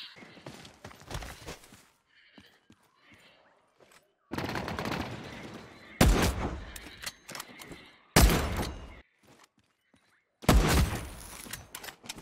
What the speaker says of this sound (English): Oh, mad explosions in front of me.